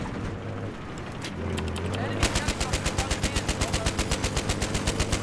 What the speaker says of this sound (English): Look at all that gunfire.